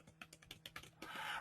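Rapid keystrokes on a computer keyboard, a run of separate clicks followed by a denser burst of typing, close and fairly quiet with no talking.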